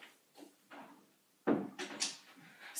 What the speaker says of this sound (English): I'm gonna go shut the door really fast.